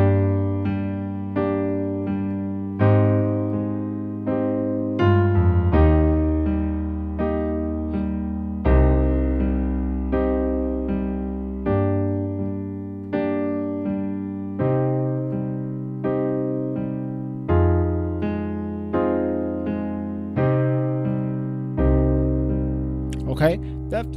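Piano plays the slow chord loop from a song, each chord struck and allowed to ring before the next, moving steadily through the repeating progression.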